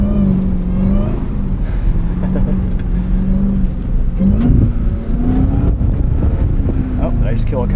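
A 710 hp 2026 Dodge Durango SRT Hellcat Jailbreak AWD slides sideways on snow at a rally school, its engine droning loudly and swelling with throttle while people talk inside the cabin.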